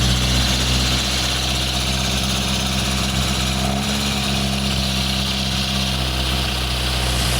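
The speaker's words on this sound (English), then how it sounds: "It's just idling on choke." Lotus Elan Sprint twin-cam engine idling on choke, a steady, loud, close drone with a low rumble and no change over several seconds, with no voices.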